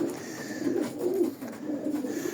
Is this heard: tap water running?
no